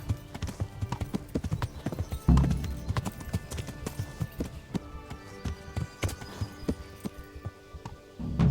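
Horse hooves clip-clopping at a gallop during a race in the medieval game Kingdom Come: Deliverance, with a rapid, uneven rhythm of close hoofbeats and a brief heavier thud partway through.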